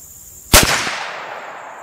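A single loud shotgun blast fires a slug at a distant steel target plate during a sight-in, a sharp crack that rolls off into a fading echo. No talking.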